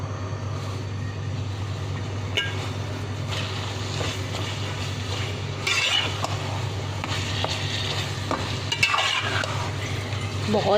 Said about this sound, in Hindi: कीमे को अच्छे से हिला लेंगे और मिक्स कर लेंगे बहुत अच्छी तरह।